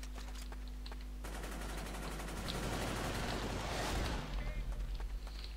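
Rapid automatic gunfire bursts out in the online shooter Warrock, fast and dense for several seconds over a steady low engine-like drone, then trails off into scattered shots.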